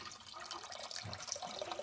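Sauce liquid poured into a pan while making sweet and sour chicken, a faint steady trickling splash running for about two seconds without any talk.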